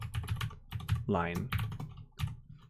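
Computer keyboard typing of Java code, short bursts of clicking keys mixed with close speech.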